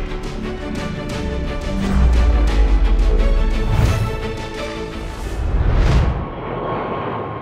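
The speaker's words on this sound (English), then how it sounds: "I love watching planes take off." An airliner taking off at an airport, its jet engine roar swelling loud and then fading with a deep rumble.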